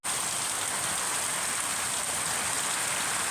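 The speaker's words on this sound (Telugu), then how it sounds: "ఇక్కడ ఇవాళ వాన పడుతుంది" Heavy rain during a hailstorm in Erragudipadu village, Cheemakurthi mandal, a dense, steady roar of drops on surfaces that stays constant and close with no voices.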